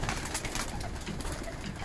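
Pigeons at a Kashubian racing-pigeon loft coo steadily, a dense continuous murmur of many birds close by with no talk.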